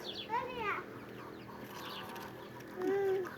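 Bird calls sound up close, short warbling chirps and a clucking cry, with a voice murmuring in the background.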